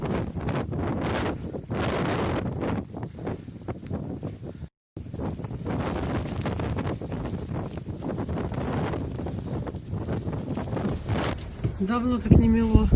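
A blizzard with storm-force wind on the Kuril Islands roars and buffets against the microphone almost without pause, briefly cutting out once, with a voice heard near the end.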